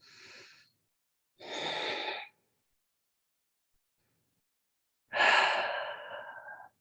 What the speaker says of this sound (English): Just 2 more rounds of breath here.